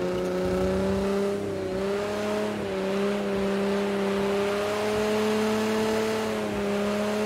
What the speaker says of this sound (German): Hier kann man eigentlich relativ entspannt so mit einem 80er durch die Kurve rutschen.